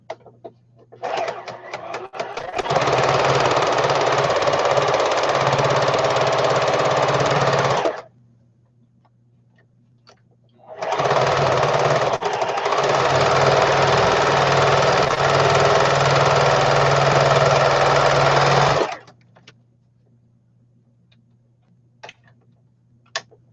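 A sewing machine runs a small, tight zigzag stitch in two long bursts, each several seconds of steady, close mechanical whirring and rapid ticking with a brief pause between them.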